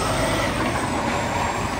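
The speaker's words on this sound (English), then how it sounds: "here comes the big truck" A large tow truck arriving rumbles loudly and steadily nearby, its engine drone filling the scene with a continuous heavy roar and a faint high whine above it.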